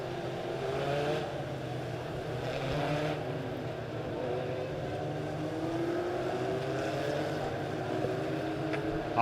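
Legend race cars circle a dirt track at Springfield Raceway during an A-Main, a steady blended engine drone with harmonic whine holding at moderate distance throughout, no voices over it.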